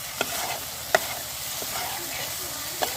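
Spice paste of cashew and poppy seed with turmeric and chili powder frying in a pan for a prawn dopeyaza, a steady soft sizzle with a few sharp utensil taps against the pan.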